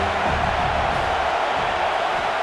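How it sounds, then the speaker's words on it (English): A stadium crowd in EA College Football 26 rises into a steady, dense roar that holds at an even loudness throughout, with no clear individual voices. "This crowd rising up, sensing that its defense needs some help."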